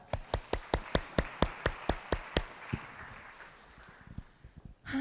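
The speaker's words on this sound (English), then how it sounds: "Give them a round of applause." A short burst of evenly spaced, sharp handclaps from an audience keeps a quick, steady rhythm for a couple of seconds, then trails off into quiet room noise.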